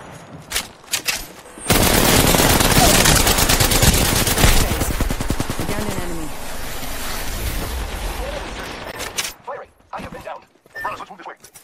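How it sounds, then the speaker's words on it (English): Gunfire in the video game Apex Legends, a sustained loud burst of rapid automatic shots lasting several seconds, followed by scattered single shots and quieter game sounds. "They spotted me. I'm taking shots."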